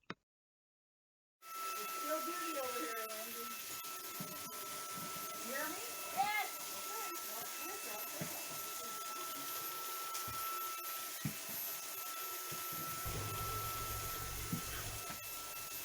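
A Rug Doctor Pro carpet cleaning machine runs indoors with a steady, loud whooshing hum that starts abruptly and continues, while someone talks over it.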